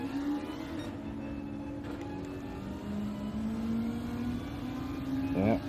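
Racing game car engine droning at a steady pitch with slow rising and falling sweeps, a brief rev flutter near the end, moderately loud under faint background noise.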